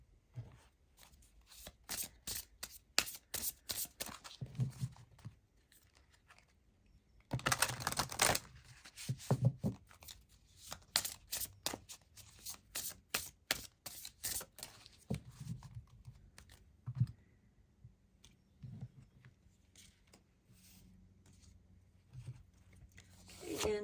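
Cards from the Seasons of the Witch Samhain Oracle deck are shuffled and drawn in quick bursts of crisp tapping and flicking, with short pauses between flurries.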